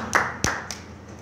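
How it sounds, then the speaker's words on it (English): Three short, sharp hand claps from an audience at a church gathering, spaced apart and fairly close, with no talk over them. "Let's clap our hands for him."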